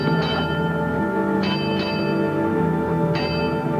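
A ship's bell rings aboard a sailing vessel, struck in spaced pairs of bright metallic clangs whose tones hang and ring on, clear and fairly close.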